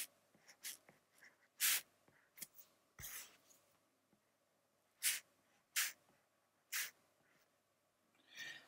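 Pen strokes sketching sheep wool, a scattered run of short scratchy bursts with quiet gaps between them, close and fairly soft.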